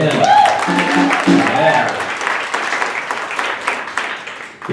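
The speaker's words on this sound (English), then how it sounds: "Round of applause for the house band." An audience applauds the house band at a live variety show. The clapping rises and holds for several seconds, with a voice and shouts heard over it at the start.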